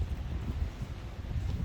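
Wind at a beach campsite blows steadily into the microphone as a low, rumbling buffet that rises and falls continuously, with no other clear sounds.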